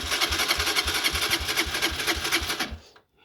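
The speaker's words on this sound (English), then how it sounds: "I want you to see what it sounds like, but I don't want the engine to get too hot" A cold 2022 Honda CG 125 motorcycle engine runs at a quick, even idle, its rhythmic single-cylinder putter pulsing close to the microphone for nearly three seconds before cutting off abruptly.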